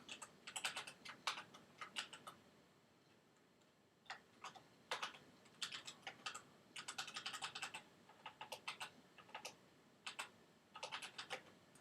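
Bursts of quick keystrokes on a computer keyboard while JavaScript code is being written, crisp close clicks arriving in irregular clusters with short pauses between them, no voices.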